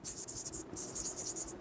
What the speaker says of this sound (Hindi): एक एग्जांपल लिखता हूं मैं